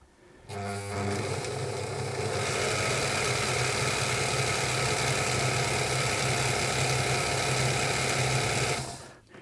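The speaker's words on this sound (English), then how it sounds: "Just wind that around a few times, just engage the stop motion there, and engage the bobbin winder." A 1950s-era Singer 185K sewing machine winds a bobbin in one steady, continuous mechanical whir, starting abruptly, holding an even hum with a fine rattle throughout, then stopping at the end; no voices.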